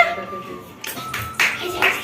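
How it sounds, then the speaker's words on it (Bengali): Family members clapping at a parents' 35th wedding anniversary celebration, a few quick claps at close range following a sustained voice. "হাততালি দে মামুনি মামুনি হাততালি দে"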